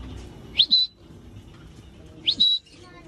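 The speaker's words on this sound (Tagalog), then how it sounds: "Nandun naman ibang ibon guys." Birds in an aviary give two short rising chirps, each followed by a clear whistled note, repeating about two seconds apart over a low rumble of background noise.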